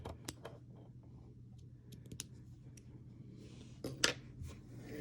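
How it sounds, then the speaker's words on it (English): Scissors snip between the stitches of a knitted shawl, giving a few quiet, sparse clicks and cuts over a low steady hum, with one sharper snip near the end. "I'm just going to start cutting right between the stitches."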